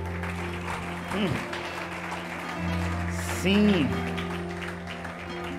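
Church congregation applauding during a Spanish-language worship service, the clapping mixed under a preacher's voice and sung or shouted tones, with one short spoken word.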